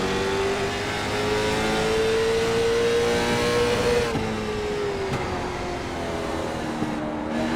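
Late model stock cars racing at Martinsville Speedway, heard from inside a car with a loud continuous engine drone that rises and falls with throttle, plus other cars' engines around it.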